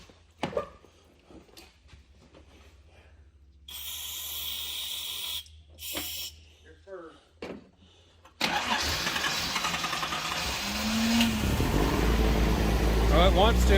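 A 1979 Datsun 280ZX that has sat unused for a long time is cranked repeatedly, the starter whirring in short bursts between pauses and clicks, then grinding longer and louder as the engine tries to catch.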